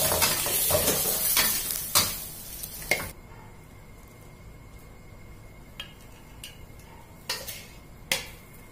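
Squid with salted egg stir-frying in a pan, a loud sizzle with several sharp utensil scrapes and clacks early, then a quieter hiss broken by occasional spatula knocks.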